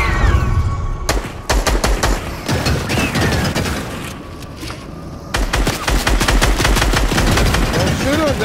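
Rapid automatic gunfire in a Fortnite match, loud and close, coming in long dense bursts with short pauses between them, while players talk faintly underneath.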